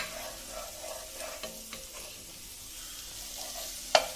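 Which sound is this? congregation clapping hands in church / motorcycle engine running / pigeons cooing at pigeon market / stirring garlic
stirring garlic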